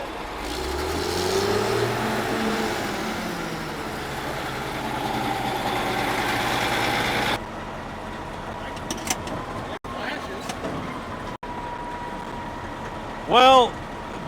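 A vehicle engine revs and drones steadily, its pitch climbing and dropping as gears shift, then it cuts to a quieter stretch with scattered clicks and a brief whine near the end.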